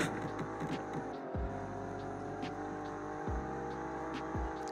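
An Alfa Romeo Giulia Quadrifoglio sports sedan engine hums steadily with harmonic tones, dipping and rising again as gears change twice, close and continuous with no voices.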